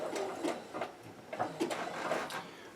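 A sewing machine stitches a spandex glove around the fingers, running in short uneven bursts of rapid, soft mechanical chatter, close but quiet, with no talk.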